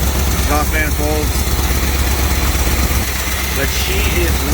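A 1970 Chevrolet C20 engine idles steadily on its own, smoky after its first start in 20 years, a loud close rumble throughout with a voice talking over it.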